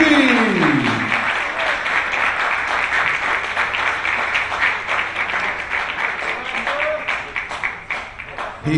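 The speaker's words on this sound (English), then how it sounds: "lots of applause from the home supporters" Home supporters applaud an eliminated Emirati athlete at a para air rifle world championship, sustained clapping and cheering under a commentator's voice, thinning toward the end.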